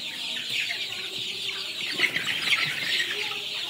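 Sonali hybrid chickens cluck and chirp continuously in a crowded poultry farm shed, a dense, steady chorus of many birds close by.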